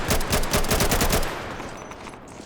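Rapid automatic AK-47 fire from the Half-Life Resurgence addon in Garry's Mod, a loud, close burst of evenly spaced shots for over a second before it cuts off and a short tail fades away.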